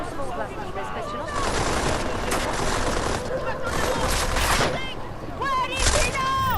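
Bursts of gunfire crackle in Deus Ex: Mankind Divided, rapid volleys and scattered shots layered over shouting voices and chaotic in-game combat noise, loud and close.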